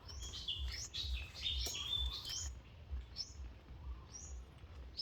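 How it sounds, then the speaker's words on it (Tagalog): Birds chirp and sing along the Alcantara mangrove boardwalk in Cebu, with bright high whistled calls clustered early and a few more later, over a soft low background rumble. "kumakanta yung ibon."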